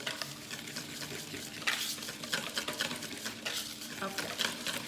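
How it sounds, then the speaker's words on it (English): An egg, butter, sugar and vanilla mixture for chocolate chip cookies is whisked in a bowl, with a run of quiet, rhythmic scraping and clinking strokes close by. "So I'm just gonna whisk everything together."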